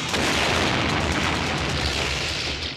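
A movie trailer explosion, a dense, sustained roaring blast that fills nearly three seconds at full loudness, with a rumbling low end and no speech over it.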